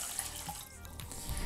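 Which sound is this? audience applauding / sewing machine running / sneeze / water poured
water poured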